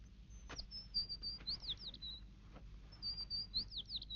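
Small bird chirping in a short burst of bright, high tweets with quick rising and falling notes, then a brief pause and another run of chirps, clear but fairly soft against a quiet background.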